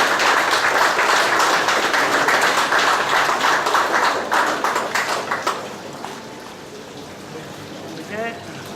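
A crowd at an award ceremony claps loudly and steadily, a dense rain-like patter that thins out after about five seconds, leaving scattered claps and room murmur with a faint voice near the end.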